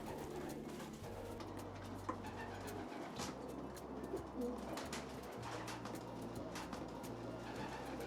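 Van Loon racing pigeons coo steadily in an aviary, with low, overlapping calls that continue throughout, mixed with soft rustles and faint chirps nearby.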